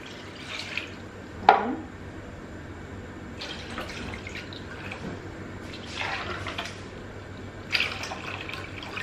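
Water is poured into a cooking pot, with soft splashing and dripping that peaks in a few brief louder pours against a low background.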